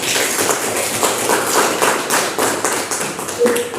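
Students in a classroom clap together in a dense, steady patter that is close and fairly loud, with a few voices faintly underneath.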